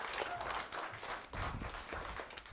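An audience at a magic show claps for the magician's assistant, a burst of applause that swells and dips in uneven waves, moderately loud and filling the room.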